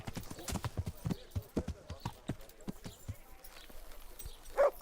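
Horse hooves clip-clop at a steady walking rhythm in the medieval video game Kingdom Come: Deliverance, close and distinct, with a short tonal call near the end.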